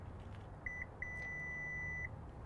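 The rear liftgate of a 2017 Subaru gives two beeps when its memory height is set: a quick short chirp, then a longer, solid tone. Both are clear and close against a quiet background.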